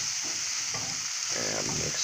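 Bologna sizzles in a hot pan while being stirred, a steady frying hiss with soft scraping and shuffling strokes of the utensil, close and fairly quiet, no talking.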